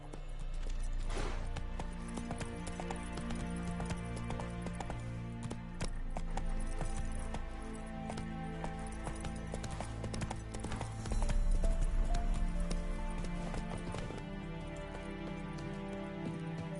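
Horse hooves in The Witcher 3 video game, a steady clip-clop of a ridden horse beneath a continuous game music bed, moderately loud and persisting throughout with no talk.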